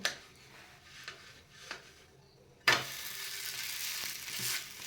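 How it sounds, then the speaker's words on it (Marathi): A potato and semolina thalipeeth flatbread roasting on a pan over medium gas: quiet clicks and taps at first, then a sudden loud sizzle that bursts in and holds steady, close and bright, to the end. "पहिल्या थालीपीठासारखं हे सुद्धा थालीपीठ मीडियम गॅसवर एका बाजूने 2-3 मिनिट भाजून घ्यायचं आहे."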